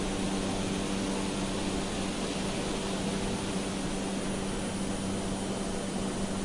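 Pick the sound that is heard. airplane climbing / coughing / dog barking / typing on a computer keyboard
airplane climbing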